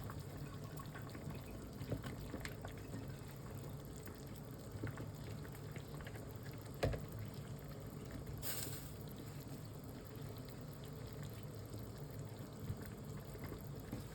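Water poured into a pot of sinigang na tilapia: a low, steady gush and splash that runs faintly the whole time, with a few brief clinks on top.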